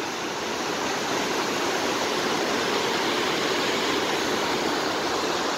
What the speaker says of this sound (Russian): мы идем дальше, поверху уже водопада самого, посмотрите, как вода здесь. Валит конкретно, конечно.